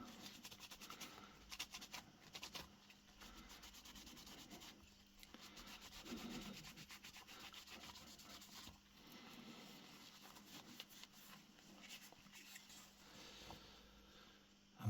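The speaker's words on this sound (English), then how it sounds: "I'm just finishing buffing the third and final coat here." Cloth rubs wax off a Ward & Steele pocket flintlock pistol during conservation, a close, soft, continuous scrubbing in repeated strokes with brief pauses, low in level and without speech.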